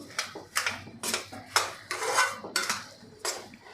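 A spoon scrapes rhythmically around a pan while semolina and sugar are stirred together for mango shira, making about eight distinct, close metallic scraping strokes at a steady, unhurried pace.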